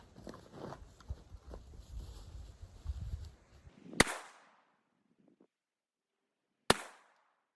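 Three rifle shots are fired at a target outdoors for a control group. The first comes faintly amid gusting wind noise, and two sharp, loud cracks follow about three seconds apart, each trailing a short echo into near silence.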